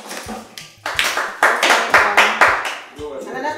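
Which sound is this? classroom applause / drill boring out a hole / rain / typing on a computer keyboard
classroom applause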